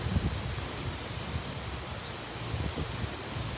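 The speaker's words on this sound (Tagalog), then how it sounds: "naririnig niyo yung hangin." Outdoor wind while walking around a neighborhood in America, a steady broad rush with low gusty rumble against the microphone, continuous from start to end with no talk.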